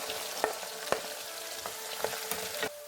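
A quarter cup of garlic frying in hot oil, a steady sizzle with sharp clicks of a spoon stirring at intervals, close and continuous with no talk.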